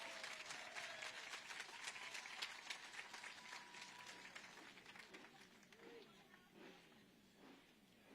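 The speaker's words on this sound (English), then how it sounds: "Round of applause." Applause from a crowd at a SuperMotocross pre-race press conference in Las Vegas, Nevada, steady clapping over about eight seconds that slowly fades, with faint voices mixed in.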